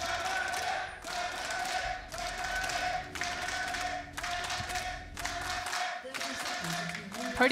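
An esports arena crowd backing Fnatic claps in rhythmic unison, loud synchronized beats about once per second, under a commentator's voice.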